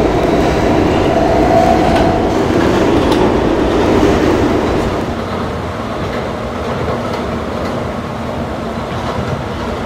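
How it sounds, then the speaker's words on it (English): R160B subway D train running toward West Potomac, a steady loud rumble with rhythmic clickety-clack of wheels on rails, easing slightly in intensity partway through. "This is a West Potomac bound D train."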